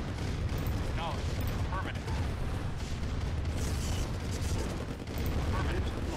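Red Alert battle as units attack enemy defense turrets, with dense, continuous rattling gunfire and rumbling blasts at a steady loud level, overlaid by shouted voices.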